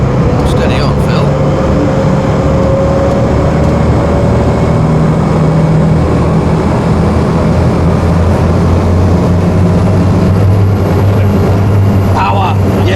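Modern diesels totalling over 1,200 horsepower push a wartime RAF-style high speed launch up onto the plane, a constant heavy low roar and churning wash close by, unbroken for the whole stretch.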